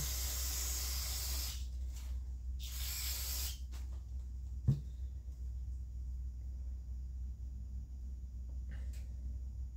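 Two short bursts of hissing spray over a steady low rumble, then a sharp clink, with a faint spritz near the end.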